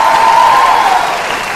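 An audience claps in a live Vietnamese comedy stage show, a loud dense burst of applause that fades slightly over a second and a half.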